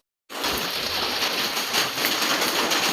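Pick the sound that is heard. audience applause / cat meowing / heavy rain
heavy rain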